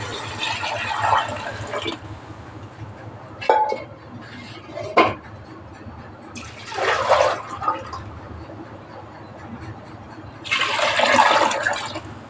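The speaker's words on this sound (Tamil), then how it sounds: "இப்போ தண்ணி ஊற்றிக்கலாம்." Water poured into a metal cooking pot for chicken pulao in several splashing bursts, with occasional clinks of the vessel in between.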